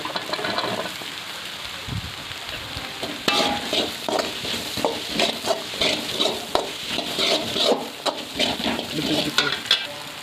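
Carrots and curry leaves frying in a pan for home-style chicken rice, a continuous sizzle broken by repeated scraping stirs of the spoon, close and fairly loud with no talking.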